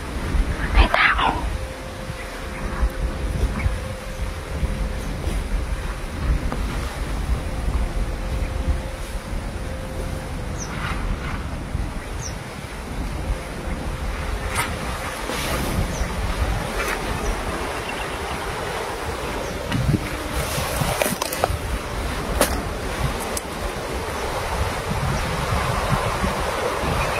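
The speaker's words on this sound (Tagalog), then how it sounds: "Lakas ng hangin." Strong wind blowing by the sea, with steady rushing gusts and microphone buffeting over surf, continuous throughout, with a few faint tones and thumps.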